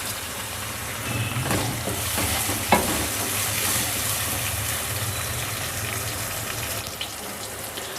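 Tomato, garlic and ginger sizzle and crackle steadily in a hot pan, with a few stirring clatters and a sharp tap against the pan's edge.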